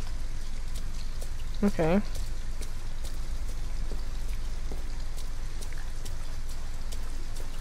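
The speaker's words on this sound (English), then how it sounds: "At least we'd be out of the rain." Rain falling outside an abandoned house in the video game Detroit: Become Human, a steady patter of drops on surfaces throughout, with a brief voice heard near the start.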